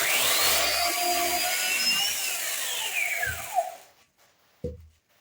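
A repaired Husqvarna Electronic 1600 chainsaw cuts through wood with a loud, steady roar and a rising then falling whine. The engine winds down, followed by a brief knock and near silence.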